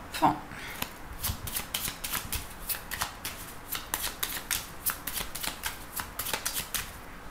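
A 32-card deck is shuffled close up in a run of crisp, rapid riffling bursts, with quick papery flutters repeating steadily for several seconds.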